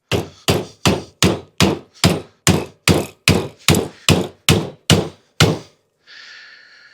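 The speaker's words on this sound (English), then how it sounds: "Every time I hammer it, I gotta make sure I don't send my bike flying." Hammer blows strike an electric bike motor thirteen times in a quick, even rhythm, each a sharp metallic whack, followed by a short lower hum.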